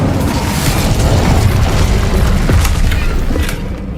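Incendio fire spell blast in Hogwarts Legacy, a loud roaring burst of flame with booming low rumble that sustains for several seconds and tapers off at the end.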